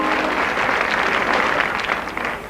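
An audience applauds Salvador Adamo at a televised children's fan show, a steady, dense wash of clapping that holds evenly throughout at moderate loudness with no talk over it.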